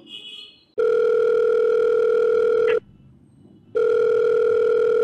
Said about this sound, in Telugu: ఒకసారి నోయల్తో నేను మాట్లాడతాను, వేరే కాల్ చేస్తాను.